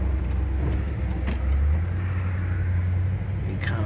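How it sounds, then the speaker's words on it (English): A 1975 Cadillac driving along, its engine giving a low, steady rumble close by, with a couple of brief higher clicks or rattles over the continuous drone and no talking. "You can just sort of hear the low rumble of the motor."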